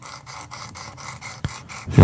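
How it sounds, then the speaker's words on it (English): Knife blade stroked along the abrasive of a Worksharp Precision Adjust sharpener while reprofiling a new bevel, a rapid series of close, even rasping rubs in a steady rhythm, ending in a louder scrape. "That's you reprofiling right there. You're really putting a new bevel on that edge."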